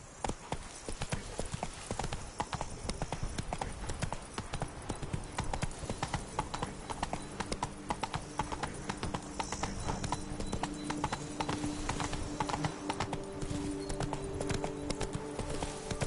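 Roach, the horse in The Witcher video game, trots with a steady, brisk clip-clop of hooves that repeats evenly and close for the whole stretch over a faint ambient bed.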